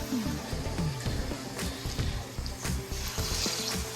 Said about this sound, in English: We're just gonna get this in our electric skillet, and I'm gonna place them in there one by one.